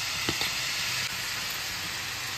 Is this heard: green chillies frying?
yes